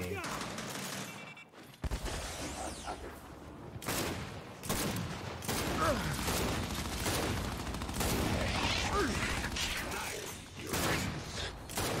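Gunfire in the video game Gears 5 sounds as loud, dense bursts of shots and mechanical weapon clatter filling most of the stretch, with someone talking over the action.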